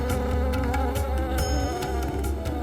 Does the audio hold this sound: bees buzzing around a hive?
yes